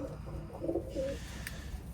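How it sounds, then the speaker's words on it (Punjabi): Black Chinese pigeons, kept as fancy flying birds, coo softly in a low, muffled burst against a quiet background hum, with a faint chirp near the end. "ਕਾਲਾ ਚੀਨਾ ਕਬੂਤਰ ਆ ਆਪਣਾ"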